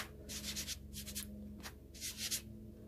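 A sanding block rubs back and forth across plasterboard in several short bursts of dry scraping, close and fairly quiet, with pauses between strokes.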